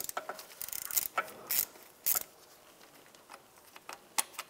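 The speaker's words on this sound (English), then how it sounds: "Take these axle bolts out. Use an 8 millimeter Allen socket." An 8 mm Allen socket working axle bolts loose on a 2004-2010 BMW X3 during a rear wheel bearing job, giving quiet ratcheting clicks and a few sharper metallic clacks in irregular bursts.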